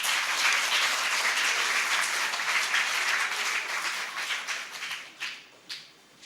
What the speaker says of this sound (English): Thanks everyone for the applause and for congratulating one another.